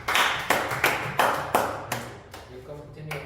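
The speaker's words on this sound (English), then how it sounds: "let me give applause for Jasim" A few people at a vision alignment workshop clapping for Jasim, slow and sparse, with distinct echoing claps spaced about half a second apart that fade out as talk resumes.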